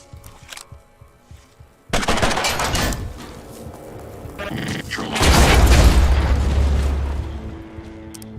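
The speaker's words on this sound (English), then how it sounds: "It's an insane explosion." A loud in-game explosion in the video game Mutant Year Zero, a broadband boom that bursts in suddenly and then swells into a long, heavy rumble, with a player talking over it.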